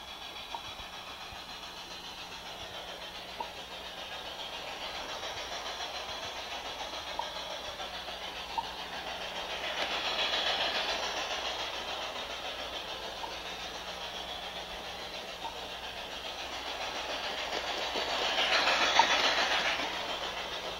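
An LGB garden-scale model train engine runs steadily along its track on an automatic block layout, giving a continuous rolling hum with faint rhythmic clicks that swell twice as it passes closer.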